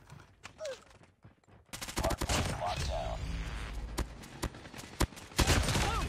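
Gunfire in the mobile shooter game Call of Duty Mobile: rapid, loud bursts of automatic fire and sharp shots that pick up after a brief quiet stretch, with game sound effects mixed in.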